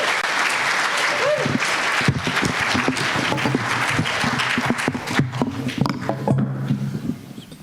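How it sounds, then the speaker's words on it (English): Sustained applause from a folk benefit concert crowd, steady and full for the whole stretch, with a few voices and cheers mixed in toward the end. "Let's hear it for Karen, Luann, and Mike."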